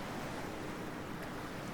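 Soft ocean waves wash against the shore in Cyberpunk 2077, a faint, brief, steady surf hiss with light wind and no voices.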